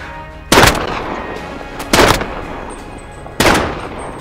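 Three loud, heavy gunshots from the video game Call of Duty: Modern Warfare go off close by at roughly even gaps of about a second and a half, each trailing off briefly.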